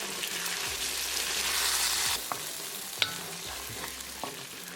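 Creamy Italian-style meatballs frying in a pan while being stirred, a steady sizzle broken by a few distinct scrapes and knocks of the utensil, close and with no talking.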